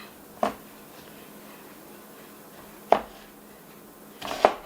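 Knife chopping onions for cortido on a cutting board in a home kitchen, three sharp separate chops spaced a couple of seconds apart, close and fairly quiet in a still room.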